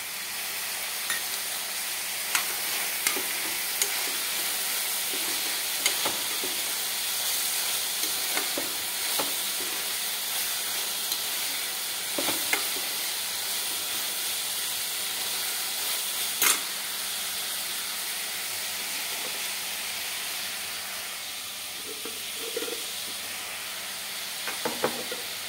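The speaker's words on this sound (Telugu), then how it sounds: "ఇప్పుడు మనం ముందుగా నానబెట్టి పెట్టుకున్న బఠానీలు వేసుకుందాము." Soaked peas fry in hot oil with a steady, even sizzle, broken by occasional light clicks of stirring and no voices.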